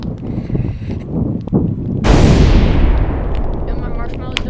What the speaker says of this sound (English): when I'm editing, I'm gonna put in a poof, an explosion.